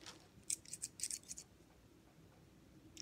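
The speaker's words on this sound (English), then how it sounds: "Scissors." Scissors snip quickly through paper in a short burst of about half a dozen crisp cuts close by, then the room falls to quiet hiss.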